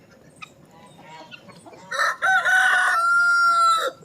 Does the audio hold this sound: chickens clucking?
yes